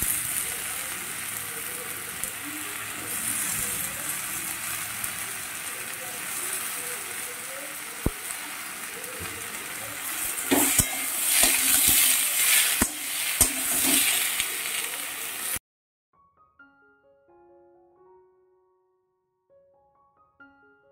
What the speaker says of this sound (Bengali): এবার একটু নাড়িয়ে চাড়িয়ে দেবো আর কড়াইশুঁটিগুলো দিয়ে দেবো এর মধ্যে।